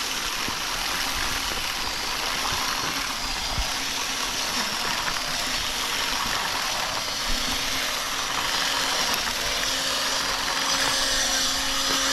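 A seed spreader broadcasts seed over a no-till food plot on hunting land. It gives a continuous whirring hiss with a steady mechanical drone throughout, close and fairly loud.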